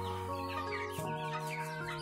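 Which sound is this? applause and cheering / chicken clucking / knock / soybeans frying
chicken clucking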